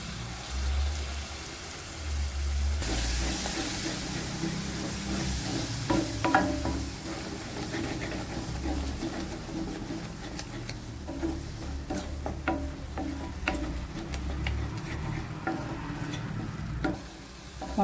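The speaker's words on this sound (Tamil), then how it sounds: "நல்லா எண்ணெயிலேயே வதக்கி விட்டுக்கிடுவோம்" Ground masala sautéing in oil in a pan for mutton liver gravy, giving a steady close sizzle with frequent scraping and stirring clicks of a spoon throughout, and no talking.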